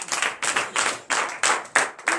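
Rhythmic bursts of congregational clapping at a morning prayer service in Benin, about seven loud, evenly spaced rounds of hands beating together in unison across two seconds, with faint voices underneath.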